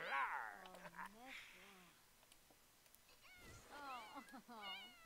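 Cats in The Sims 4 give several soft, rising meows in a quiet room, with a short, faint, low thump partway through.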